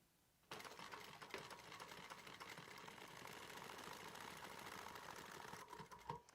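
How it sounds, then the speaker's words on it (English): Sewing machine stitches across the edge of a messenger bag, a steady, fairly loud mechanical whir that runs continuously for about six seconds after a brief quiet start. "I'll go ahead and stitch"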